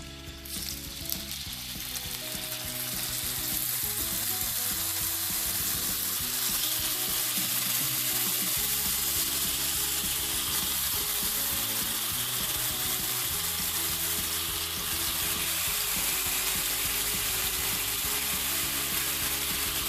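Veal fries in a hot oiled pan with a steady, dense sizzle that crackles loudly and evenly throughout, no voices.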